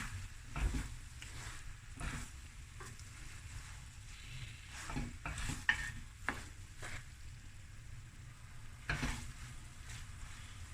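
Lamb fried rice stirred in a pan gives a quiet, soft sizzle with repeated scraping and shuffling strokes, some louder knocks in between, and no talk.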